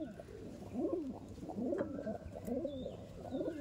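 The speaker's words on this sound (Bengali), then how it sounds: "এই দেখুন পায়রা" Andhra pigeons coo in a steady, overlapping series of soft rolling calls, close by, with a faint higher chirp now and then and no talk.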